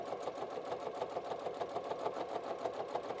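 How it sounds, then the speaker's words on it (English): Sewing machine stitching a quarter-inch seam on a fabric book sleeve, a fast, even mechanical chatter that runs steadily and close, with no voices. "So we are just going to sew with a 1/4 inch seam"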